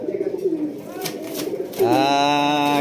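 Pigeons coo steadily at a pigeon farm where breeding pairs are kept, their low rolling calls close and loud, swelling into a stronger, sustained coo in the final second with no talk over them.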